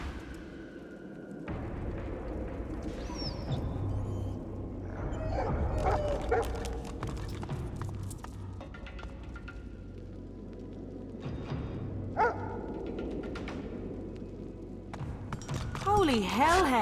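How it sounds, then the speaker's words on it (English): Hellhounds bark and whimper in the Divinity Original Sin 2 video game, with sharp yips and barks recurring through a busy game soundscape, and a voice speaking over part of it. "Holy hellhounds! Those dogs sound out for blood."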